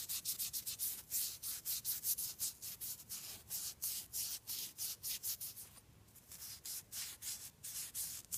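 Scotch-Brite pad scrubbed hard inside an engine connecting rod cap, a fast run of rhythmic abrasive back-and-forth strokes, close and steady with a brief pause midway, no talking.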